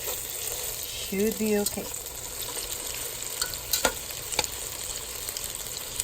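Skinless sweet longganisa and garlic fry in a pan with a steady, crackling sizzle and occasional stirring scrapes, while a voice briefly speaks early on.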